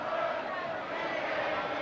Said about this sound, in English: The crowd is chanting a little melody toward Brian Bosworth